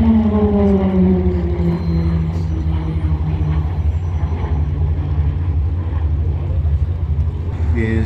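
Aircraft flying the roulette manoeuvre at the Warbirds Downunder 2024 airshow, a loud, steady engine roar whose pitch glides downward as it passes, sustained throughout with crowd-level rumble beneath.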